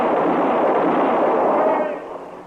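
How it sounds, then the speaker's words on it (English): Gunfire effect in a western radio drama: a loud, dense burst of shots merging into a continuous roar that fades toward the end. "Just keep firing, Chester."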